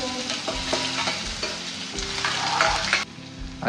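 Chopped onions hit hot oil already holding cumin seeds in a pan and fry with a loud, dense, steady sizzle, close by. Spoon scrapes and clatter break in now and then, and the sizzle eases briefly near the end.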